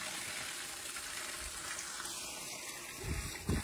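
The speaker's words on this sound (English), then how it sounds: "I'm watering the trees." Water sprays steadily from a hose onto lemon trees outdoors, a continuous hiss with a couple of louder splashing bursts near the end.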